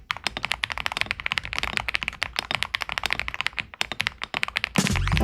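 Rapid typing on a budget gasket-mount mechanical keyboard with five layers of internal foam, crisp clacky keystrokes in a fast irregular rhythm close to the mic, ending in a brief louder burst of noise.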